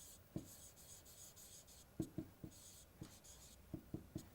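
Pen writing out a physics solution on paper, faint quiet scratching strokes in short irregular bursts with soft pauses between, close and alone.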